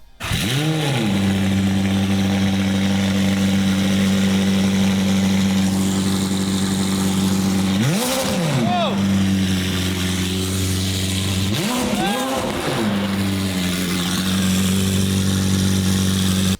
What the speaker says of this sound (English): here's a quick clip for you guys on the new exhaust on the 720S